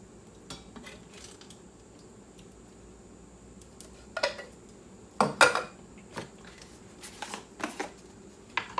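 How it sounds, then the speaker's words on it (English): Canned fire roasted tomatoes dumped into an Instant Pot, a few wet clanks and sloshing thumps in irregular bursts, with light scraping of metal and utensils around them in a quiet kitchen. "My fire roasted tomatoes, I'm going to dump that in just as it is."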